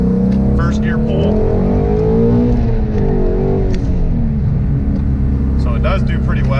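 A 2017 Shelby GT350 accelerates hard in first gear from a stop, its engine roaring loud and close as it climbs in pitch, heard from inside the car with voices over the noise.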